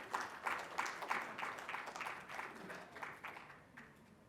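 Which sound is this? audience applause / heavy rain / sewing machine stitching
audience applause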